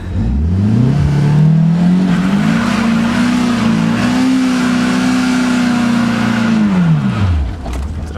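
A car engine revs hard while standing still, climbing in pitch, holding a steady high drone for several seconds, then dropping away as the driver shifts from first to second without moving. Loud and close throughout.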